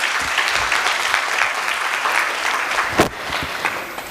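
Steady, full audience applause at a women's poetry event, a dense wash of clapping throughout with one sharper clap near the end.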